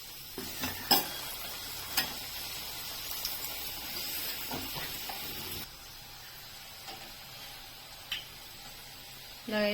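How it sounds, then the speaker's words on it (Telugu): Kajji kaayalu, stuffed sweet dumplings, frying in hot oil on medium flame, a steady close sizzle with scattered clinks and stirring taps that softens midway. "ఇదిగో వేస్తున్నాను చూడండి, ఇది ఎలా ఉడుకుతుందో"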